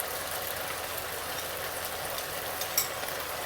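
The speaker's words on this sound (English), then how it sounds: "Now we add in our sauce." Sauce poured into a hot wok of beef and onion stir fry, giving a steady crackling sizzle with a brief pop near the end, even and moderately loud with no talk.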